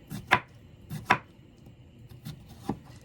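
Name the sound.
chopping cucumbers on a cutting board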